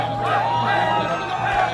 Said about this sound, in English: With the crowds cheering,